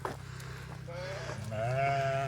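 Sheep bleat on a road near Edale on the way to Jacob's Ladder, with several drawn-out wavering calls rising in loudness toward the end over steady low outdoor rumble.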